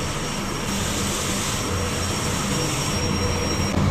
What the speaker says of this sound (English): they have our high-speed motor machine running here